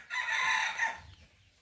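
Chickens at a small backyard poultry farm give one loud, drawn-out crowing call, close by, which fades into quiet low rustling.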